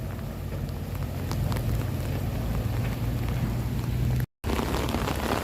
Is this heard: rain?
yes